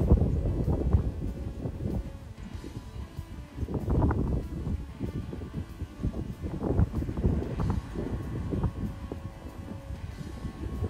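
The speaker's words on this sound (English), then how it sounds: "It is a windy afternoon here, as you can see." Wind gusts outdoors on a windy afternoon, buffeting the microphone with rumbling, uneven rushes that swell and ease throughout.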